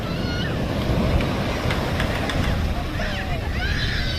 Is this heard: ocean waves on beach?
yes